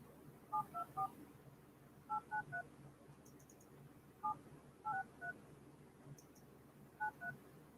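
A phone number is keyed in as DTMF tones on a telephone: short clusters of quick beeps separated by pauses, faint and close, with no voices.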